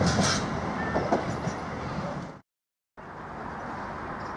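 Class 387 electric train unit 387113 passing at the rear of a service to King's Lynn, a loud steady roar of wheels and rail noise, then a clean cut before it resumes.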